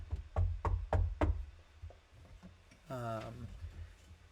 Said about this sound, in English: all of you hear a knock on the door.